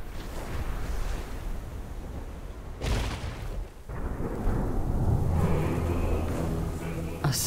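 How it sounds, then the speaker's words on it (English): A thunderstorm rages in World of Warcraft, with loud roaring wind and rain noise, a sudden booming crash partway through, then a continued heavy rumble. "Storm."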